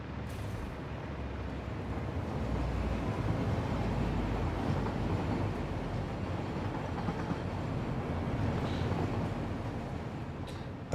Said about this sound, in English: Is that train network working now?